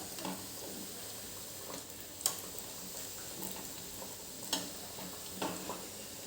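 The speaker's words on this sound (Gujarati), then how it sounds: "મુઠિયા આપણા બધા વળાઈ ગયા છે, તો એને આપણે હવે તળી લઈશું" Muthiya dough balls deep-frying in hot oil over a low flame, a soft continuous sizzle with a few faint taps and clinks, quiet and close.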